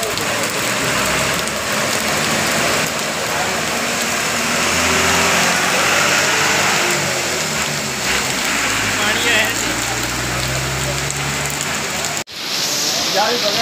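Motorcycles and traffic driving along a wet street after rain, a steady hiss of tyres on water with engines droning and passing close by, loud and continuous with no talk.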